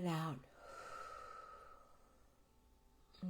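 A deep breath is exhaled slowly and softly after a spoken instruction, a long gentle airy release close to the microphone under a faint background hum.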